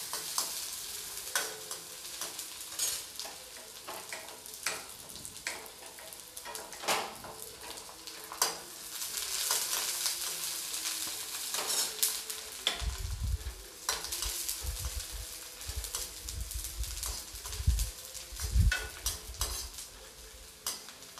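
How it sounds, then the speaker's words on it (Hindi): The white part of onion fries lightly in a pan for a cabbage paratha filling, with a constant soft sizzle. A utensil stirs and scrapes throughout, with frequent clinks against the pan and heavier knocks in the second half. "और इसको मैं हल्का सा भून लूँगी"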